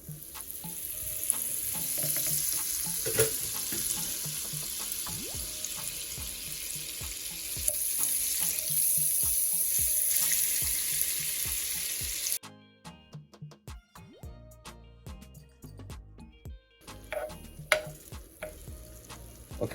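Butter sizzles and crackles in a pan while cooking Jamaican steamed fish, with a steady fry, scattered stirring taps and a brief quieter stretch with running water, no speech.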